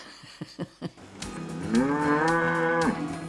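Cattle at a show featuring Brahman, Hereford cross and other beef breeds: a few short grunting calls, then one long, loud, close moo that swells and trails off.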